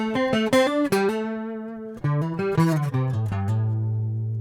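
Acoustic guitar through a chorus pedal at a very fast rate, a picked lead line of single notes with a shimmering, warbling tone, close and clear, ending on a ringing low note.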